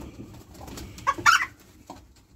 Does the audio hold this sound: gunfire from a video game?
no